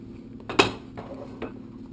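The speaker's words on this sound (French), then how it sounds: "je mets dans la poêle qui a servi à faire roussir mes souris d'agneau la moitié des légumes" Brunoise-diced vegetables dropped into a frying pan previously used to brown lamb shanks: one sharp clatter and scrape of food and utensil against the pan, then a couple of softer knocks, close in a quiet kitchen.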